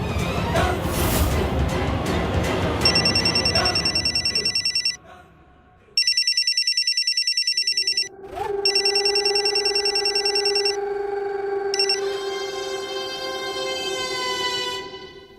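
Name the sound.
telephone ringing during a call home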